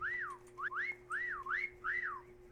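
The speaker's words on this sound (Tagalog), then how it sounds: "Sumipol na ako." A person whistles a wavering, rising-and-falling tune in several short phrases, steady and clear over a faint constant hum.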